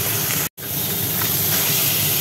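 Tilapia fish frying in mustard oil, a loud, close, steady sizzling hiss broken by a split-second gap and then resuming at full strength.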